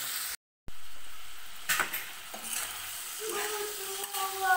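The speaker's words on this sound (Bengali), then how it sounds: "চিংড়ি মাছটা ভাজা আর একটু হবে" Prawns sizzle and crackle as they fry in a pan, a steady close hiss with occasional stirring scrapes and clinks, alone without talk.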